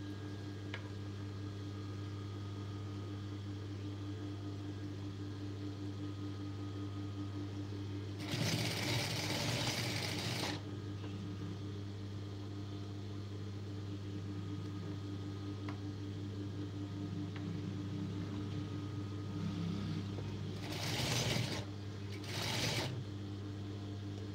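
A sewing machine stitches piping onto a blouse back neck, starting with a two-second close whirring run, then two shorter bursts later, over a steady low mains hum between runs.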